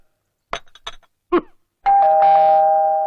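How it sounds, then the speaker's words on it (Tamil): A doorbell sounds close and loud, a few short knocks or taps first, then a clear sustained electronic ding-dong chime that rings out and slowly fades. "பெல் அடிக்குது, யாருன்னு பாரு."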